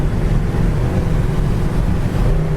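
Steady, loud wind buffeting the microphone, a constant low roar with no pauses.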